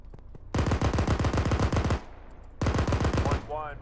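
Sustained machine gun bursts in the military simulation game Arma, two long rapid-fire strings separated by a short pause, loud and close, with faint radio chatter at the very end.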